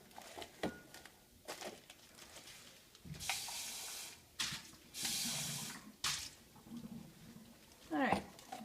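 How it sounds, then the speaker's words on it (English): Water is poured through a filter into a beaker, giving several short splashing, gushing bursts separated by pauses, with a voice talking between them. "I'm pouring the water through the filter, and as you can see, the water is coming out in the bottom of the beaker"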